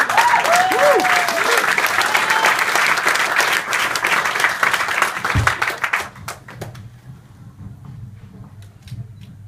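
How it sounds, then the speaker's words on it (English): A crowd claps loudly for a performer at a soul poetry slam, dense sustained applause with some whoops that thins out and fades to scattered claps near the end. "Give him a round of applause."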